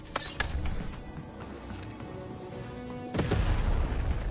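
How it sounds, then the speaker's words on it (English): A cannon fires in the video game Lost in Random: a deep, heavy boom lands near the end, over a busy game soundscape with a few sharper knocks earlier on. "Shoot the button to fire the cannon."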